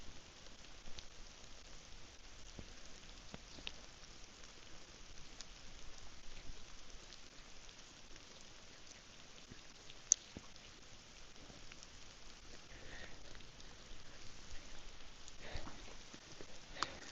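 Light rain falls steadily outdoors in a wooded campsite, a soft continuous patter of scattered drops with a few sharper ticks, fairly faint and with no voices.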